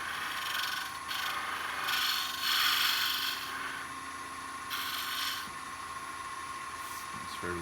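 A bowl gouge used as a scraper on a wooden acorn spinning on a lathe, giving repeated hissing, raspy scraping bursts over a steady motor whine, fairly quiet.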